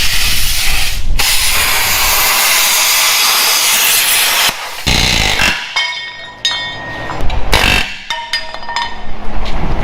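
Cutting torch hissing as it cuts rivets off an old GMC truck frame, a loud continuous roaring hiss in long stretches broken by pauses, followed by metallic clinks and scraping.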